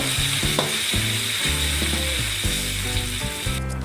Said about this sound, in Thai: ใส่พริกที่เราโขกไปเมื่อกี้ครับ ลงไปผัดเลยครับ